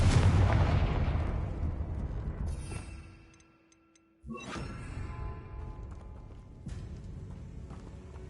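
A Confringo spell explodes in the Hogwarts Legacy video game as a loud, rumbling blast that decays into silence, followed by another sharp burst and lingering crackle with a later smaller hit.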